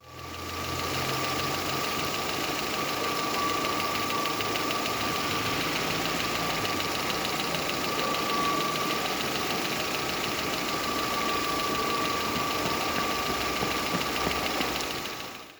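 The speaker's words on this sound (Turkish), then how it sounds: "Rolanti motorunu taktıktan sonra arabayı çalıştırdığımız sahneyi de görebiliriz." An Opel Astra G engine idling steadily just after its idle control motor was replaced, a continuous mid-pitched hum with a faint whine that holds evenly and loud for the whole stretch, no voices.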